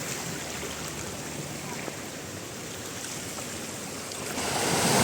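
Continuous broadband roar of strong sea waves and wind on a coast in the Philippines, steady and full, swelling louder near the end, with no voices.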